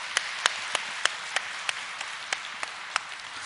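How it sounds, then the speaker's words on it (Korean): A church congregation at a Sunday morning worship service claps in unison, about a dozen evenly spaced sharp claps over a soft room hiss. "우리 박수 한번 하겠습니다"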